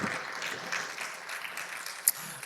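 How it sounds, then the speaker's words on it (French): Applause from an audience at the Grand Prix STAR 2023 awards for solidarity initiatives, a soft, fairly distant steady clapping that carries on evenly, with one sharp click near the end. "Applaudissements encore une fois."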